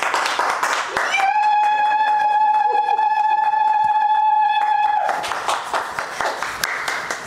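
Audience applause and acclamations at an international women's award presentation: clapping crowd with a sustained tonal musical note, a lull of scattered claps in the middle, then renewed dense applause; a voice is heard near the start.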